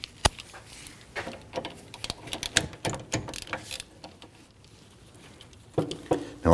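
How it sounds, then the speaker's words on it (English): Upper brake caliper bolt being backed out on a 2013-2019 Ford Police Interceptor Utility's rear brakes, a quick rattling ratchet patter of clicks and taps, close by, ending in a louder clatter. "Now our upper bolt is coming out without any issues"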